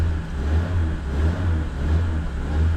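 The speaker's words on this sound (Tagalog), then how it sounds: "Engine start now." A motorcycle engine runs steadily with a low, throbbing drone and slight revving swells throughout, close and fairly loud with no speech.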